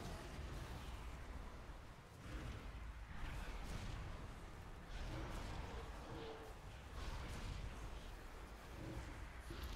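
A Fellstorm barrage attack in a video game: a dense, sustained volley of booming, crackling blasts that keeps going throughout, loud and close with repeated surges and no clear pauses.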